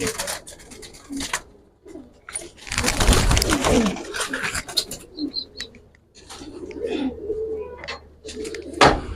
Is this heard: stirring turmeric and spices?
no